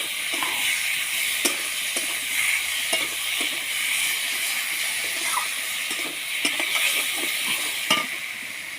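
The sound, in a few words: onion paste and chili paste frying in mustard oil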